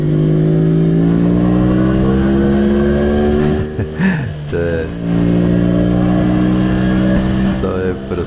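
A Jawa 250 kývačka motorcycle engine droning steadily while riding, pitch rising gradually through the gears, with a brief dip and rev around the middle; a voice talks over it.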